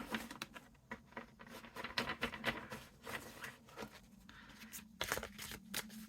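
A continuous soft riffling patter of tarot cards being shuffled, quiet and close, with rapid crisp flicks and no voices.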